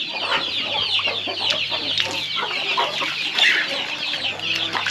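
Chickens on a poultry farm during the rainy season cluck steadily and busily, with many birds overlapping close by in a continuous chorus, a faint crow somewhere among them.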